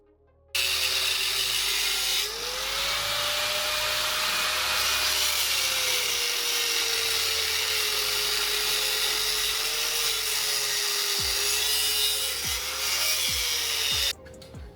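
A power cutter grinds steadily through the welds of a three-piece wheel, a loud continuous whine that shifts slightly in pitch, with a few sharp clanks near the end.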